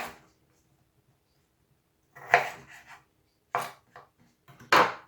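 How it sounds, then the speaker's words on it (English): A piece of ginger chopped with a knife on a board: a few sharp, close knocks and cuts in separate bursts with quiet gaps between, no talking. "we also have to add a nice piece of ginger. Yeah, just kind of cut it up nice."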